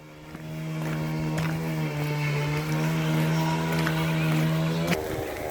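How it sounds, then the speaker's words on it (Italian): Chainsaws run in the background near the mountain village of Sasso, a steady, buzzing motor drone lasting about five seconds before it cuts off, with no speech. "naturalmente i rumori di sottofondo sono delle motoseghe"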